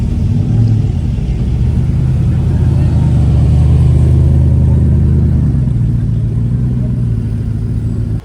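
A wide-body Mercedes SLR runs with a deep, steady engine rumble that holds close and loud throughout, easing off right at the end, with talk underneath.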